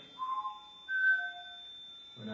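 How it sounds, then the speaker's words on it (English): A person whistles a few clear, pure tones in a quiet room, a short low note sliding up to a higher held pitch and then dropping lower, soft and close with faint background. "So if I do the whistling game again"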